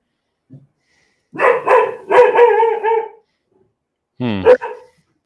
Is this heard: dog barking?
yes